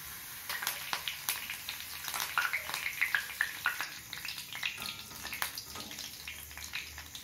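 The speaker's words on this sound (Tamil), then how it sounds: "கருவேப்பிலை வறுத்தாச்சு." Curry leaves, three sprigs stripped from the stem, crackle and sizzle steadily in hot oil, a dense, close, continuous frying hiss with small bursts of popping throughout and no voices.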